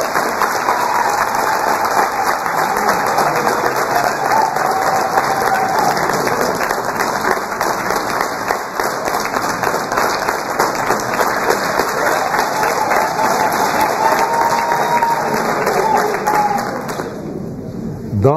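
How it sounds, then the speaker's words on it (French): Sustained applause from a large audience at a political party president's inauguration speech, dense steady clapping that fills the whole stretch at a loud, even level before tapering off abruptly at the end. "Je vous demande de les applaudir une fois de plus"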